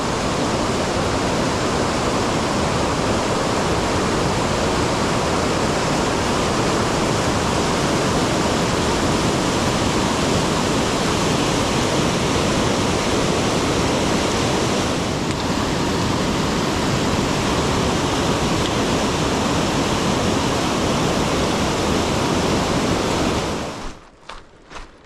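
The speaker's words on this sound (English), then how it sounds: "This is as furious as I've seen this creek." Mountain creek at high flow, the West Fork White River on the Wonderland Trail, roaring as a steady loud broadband rush that holds unbroken for about 24 seconds before cutting off abruptly at the end.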